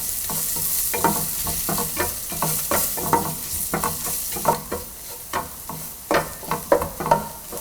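Turmeric, crushed dried chilli and Kashmiri chilli powder sauté in oil in a pan for a prawn and snake gourd stir-fry, a steady sizzle broken by rhythmic spoon scrapes and knocks that grow louder toward the end.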